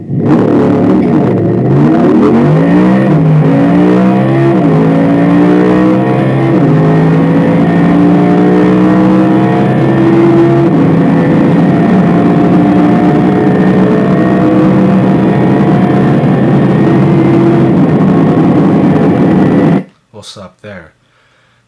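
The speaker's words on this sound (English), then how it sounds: "Now, let's listen to the Audi R8 V10." An Audi R8 V10 engine revving repeatedly, pitch sweeping up and down, loud and close, before cutting off near the end.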